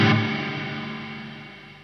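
A guitar chord played through the plate reverb of a Sonicake Levitate pedal, struck once and left to decay in a long shimmering metallic tail that fades slowly, with no voices.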